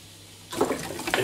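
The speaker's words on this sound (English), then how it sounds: "Instantly, you can see that it's fizzing like mad." A CO2 reactor bottle for an aquarium bursts into loud, hissing fizz after citric acid is added. The fizzing starts abruptly from near quiet and keeps churning close by.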